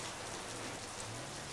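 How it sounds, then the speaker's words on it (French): Steady rain falling, a continuous dense hiss of drops on a surface with no voices. "Il pleut."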